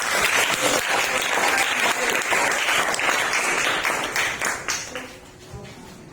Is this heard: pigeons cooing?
no